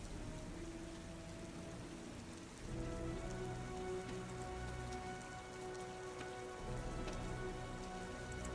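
Steady rain falls in the Heavy Rain video game, a dense continuous patter on surfaces with a low rumbling bed beneath. It holds even throughout, with no voices.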